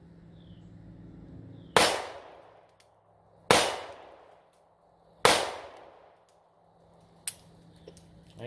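Three loud, sharp pistol shots from a Shield handgun ring out close by at an even pace about two seconds apart, each decaying quickly, followed by a fainter metallic click.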